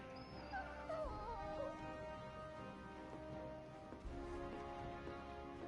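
A dog whimpers in the Final Fantasy 16 video game, giving a few high, wavering whines early on over soft, steady game music and ambience.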